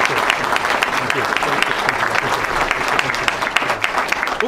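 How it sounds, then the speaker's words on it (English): Loud, sustained applause from a crowd at a governor's bill-signing event, dense clapping throughout without pause. "A round of applause."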